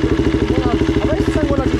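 A KTM dirt bike engine running steadily after sitting all winter with its throttle position sensor repaired, a loud, even, close thumping idle that fills the clip, with someone talking faintly underneath.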